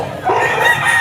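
Bull stag roosters at a pet market cluck and crow close to the microphone, a loud, brief burst of throaty fowl calls with no speech over it.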